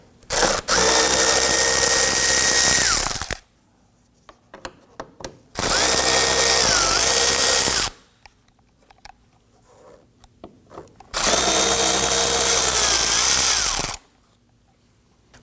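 Power drill spinning out T25 Torx screws on a 2003-2014 Volvo XC90 bumper area, three loud sustained whirring bursts of about two to three seconds each, separated by quiet pauses.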